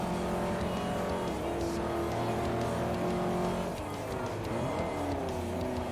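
Porsche race car engine in Forza Motorsport 4, a steady loud droning whine that climbs and shifts pitch as the car accelerates, with faint tire noise and no talking.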